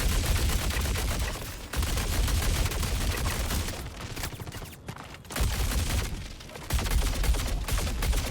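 Sustained automatic fire from the Fresnel Volt LMG in a video game, long dense bursts of rapid shots with brief pauses between them, loud and close with no voices.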